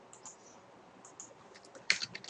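Typing on a computer keyboard: soft, scattered keystrokes clicking close by, then a quicker, louder cluster of taps near the end, in a quiet room.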